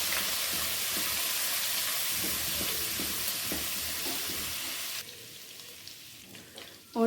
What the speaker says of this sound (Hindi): इसको अब हम ऑयल में अच्छी तरह फ्राई कर लेते हैं